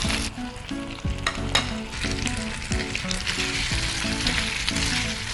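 Paneer pieces sizzle and fry in a hot pan with soy sauce while being stirred for paneer chilli, giving a loud, steady crackle with repeated scraping stir strokes and no talk.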